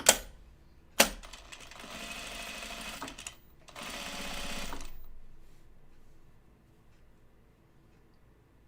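A sewing machine top stitches the pocket facing of a pair of jeans in two close bursts of rapid mechanical whirring, each opening with a sharp clack, then fading to quiet.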